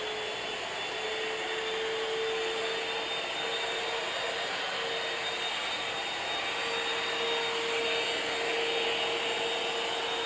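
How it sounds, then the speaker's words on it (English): A Shark VacMop wet-dry vacuum mop runs steadily while vacuuming a floor, a high whine over a constant airy roar, unbroken and fairly close. "we're going to pull the trigger here. It'll turn on as a vacuum"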